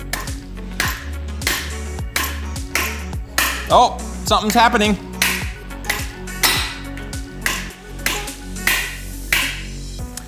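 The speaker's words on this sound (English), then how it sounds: "try a little more hammering" Repeated sharp hammer blows strike the heated plastic handle of a best-selling chef knife, a steady series of knocks close by, with a person talking briefly in the middle.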